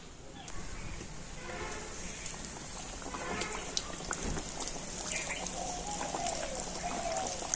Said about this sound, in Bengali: আর এখন আমি প্যাটিসগুলো তেলের উপর দিয়ে দেব।